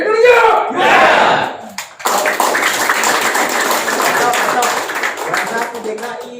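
At a PBSI provincial board inauguration ceremony in Jakarta, a loud crowd cheer breaks into sustained, dense audience applause, with voices shouting over the clapping.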